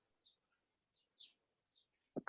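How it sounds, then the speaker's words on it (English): Faint, distant birds chirping outside a window, a few brief scattered calls over near silence, ending with a louder muffled knock or bump close by. "right now I'm hearing birds from somebody's window"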